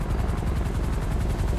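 A rescue helicopter in GTA V roleplay thuds overhead with steady rapid rotor chop, loud and close and continuous.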